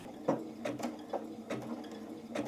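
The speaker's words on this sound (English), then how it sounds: "I'm going to start sewing the zigzag stitch" Sewing machine stitching a zigzag stitch, with a steady mechanical whir and several sharper clicks and taps recurring irregularly, close and moderately loud, no voices.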